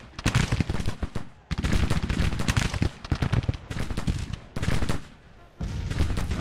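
Civil War artillery and musketry in the Grand Tactician game, with guns firing canister amid dense, continuous battle noise: heavy overlapping gunfire blasts in long loud stretches broken by brief dips.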